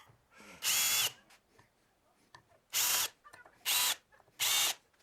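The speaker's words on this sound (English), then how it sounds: "Pre-drill some holes." A power drill whirs in four short bursts, one early and three close together near the end, pre-drilling holes while building a garden gate, with quiet handling noises between them.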